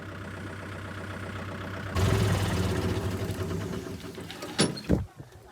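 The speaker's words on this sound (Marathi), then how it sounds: "आता आपल्याला ट्रॅक्टर तिकडं समोर पार्क करावा लागेल" A farm tractor engine runs near a field, a steady low rumble that grows louder midway as the tractor pulls in to park, with a couple of sharp knocks near the end.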